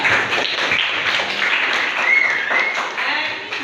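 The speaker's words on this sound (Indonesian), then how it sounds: "Tepuk tangan." A class in an Indonesian school breaks into applause, a dense, steady wash of many hands clapping together that holds for a few seconds, with voices mixed in underneath.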